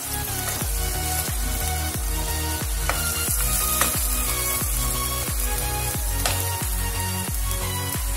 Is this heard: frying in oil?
yes